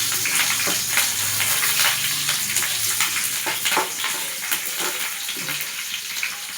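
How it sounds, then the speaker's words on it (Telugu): Drumstick leaves (munagaku) fry in a tempering pan with a steady, close sizzle, punctuated by intermittent stirring scrapes and crackles, and no voices. "ఇవాళ నేను మునగాకు తాలింపు చేస్తున్నాను ఫ్రెండ్స్."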